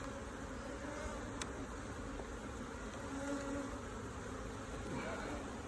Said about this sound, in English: with literally a box full of bees